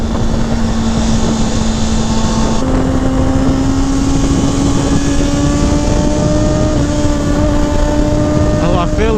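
A 2019 Kawasaki Ninja ZX-6R engine revs loud and close near 10,000 rpm as a steady high whine that slowly climbs in pitch, with a constant wind roar under it.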